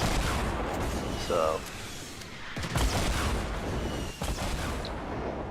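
Rockets fired repeatedly by an opponent in a shooter video game burst in a dense, rumbling barrage of blasts, with a voice talking over them.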